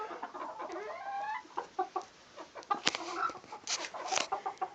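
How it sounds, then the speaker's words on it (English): Several chickens cluck and chatter close by in short, irregular bursts, with occasional sharper squawks rising above the soft clucking. "these are nice little small chickens"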